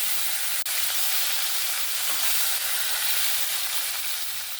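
Flipped fish sizzles in hot mustard oil, a continuous, close, hissing crackle with one sharp tap early on and no voices.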